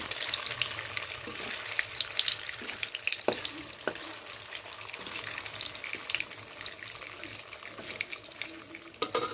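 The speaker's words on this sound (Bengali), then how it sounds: "এরম করে করে আমি আস্তে আস্তে সব কোপ্তাগুলো ভেজে নেব হালকা করে।" Fish and paneer koftas fry gently in a pan, giving a soft, continuous sizzle and crackle with a few light clinks, faint and steady throughout.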